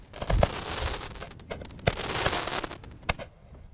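Fireworks go off along a highway at night, with a string of sharp bangs and crackling bursts at irregular intervals, moderately distant and loud, without speech over them.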